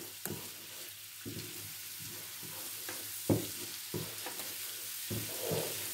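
Garlic browns in a little oil in a pan, a soft, fairly faint sizzle under repeated light knocks and scrapes of a utensil, with no one speaking.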